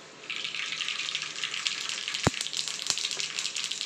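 Mustard seeds dropped into hot oil for a Nellore-style ginger chutney tempering give a steady close hiss of sizzling, with a couple of sharp pops as seeds burst.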